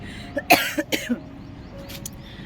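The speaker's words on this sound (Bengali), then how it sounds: "হেয়ার টনিকটা অ্যাপ্লাই করার পর থেকে হালকা হালকা কাশি শুরু হয়ে গেছে" A woman on a rooftop coughs a few times in quick short bursts, followed by a faint throat sound, against quiet background noise.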